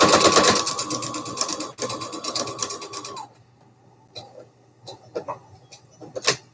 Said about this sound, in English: wind half a bobbin on this one